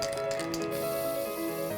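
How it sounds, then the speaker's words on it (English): Spray paint hissing onto a canoe paddle in a paddle workshop, a steady close airy spray running continuously with faint clicks of handling behind it. "All he needs is spray paint and tape."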